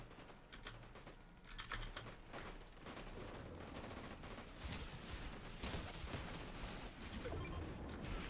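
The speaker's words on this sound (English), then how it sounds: "He was still shooting at the guy that's out on the ground." Fortnite gunfire crackles in quick, clicky bursts of rapid shots, faint and distant at low volume, scattered across the clip with no talking.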